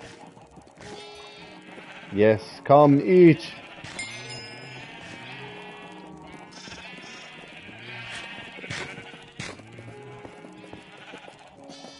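Minecraft sheep bleating in a burst of several loud calls early on, with someone talking throughout over a quiet game background.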